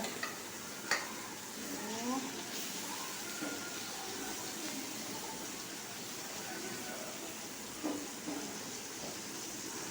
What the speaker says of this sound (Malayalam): മീനൊക്കെ ഒരു സൈഡ് വന്നതിന് ശേഷമാണ് സവാളയൊക്കെ ഇട്ട് കൊടുക്കുക